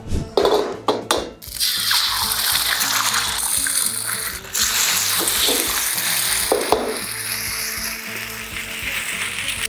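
Noodles and seasonings sizzle and fry over a roaring high-pressure stove, opening with a few sharp metallic clanks, then settling into dense continuous sizzling with occasional stirring scrapes and knocks.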